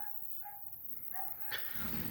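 A young Laika dog gives a few faint, distant barks and yips spread across a quiet outdoor background hum.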